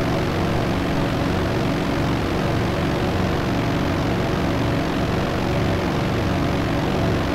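Propeller fighter in the flight game IL-2: France lifting its tail and climbing out on takeoff, a loud steady engine drone with a dense broadband roar and low throbbing that holds constant throughout.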